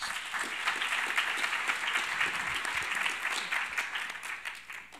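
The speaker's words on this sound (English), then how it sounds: "Let's give everyone a round of applause." Sustained audience applause fills a hall at a United Nations Women's Entrepreneurship Day event, steady dense clapping from a sizable crowd with no voices standing out.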